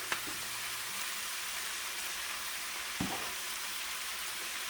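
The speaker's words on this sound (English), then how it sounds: "cabbage here and the carrot sizzling" Shredded cabbage and carrot sizzle in a skillet, a soft continuous hiss at low level with a couple of brief clicks from stirring, and no talking.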